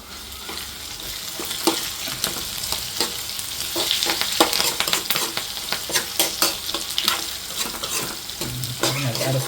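Onions and curry leaves fry in a pan for a Kerala clam roast, a steady broadband sizzle with scattered stirring scrapes and crackles, close and continuous, with no voices.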